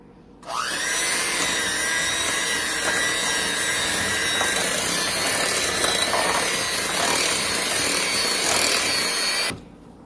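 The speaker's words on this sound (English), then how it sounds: "Now you're going to take your mixer and you're just going to mix this up together." An electric hand mixer whirs steadily for about nine seconds while beating vegan frosting, close and loud, starting and stopping abruptly, with no talk.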